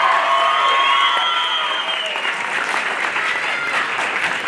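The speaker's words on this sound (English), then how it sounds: "keep on clapping one more time for Paulina Zoo" An audience claps and cheers for a performer at a university Mock Rock show, loud sustained applause with crowd whoops, tapering slightly while a lingering tone fades early on.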